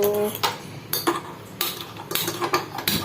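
A metal wok (kadai) is picked up and set down on the stove, giving several sharp clanks and clatters in an irregular rhythm, close and fairly quiet, with no talk.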